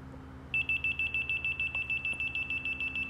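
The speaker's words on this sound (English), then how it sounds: "when you have it on the exact height, it gives another beep" A laser level gives a steady rapid electronic beeping that starts after a short pause and repeats evenly throughout, high-pitched and clear over a low background hum.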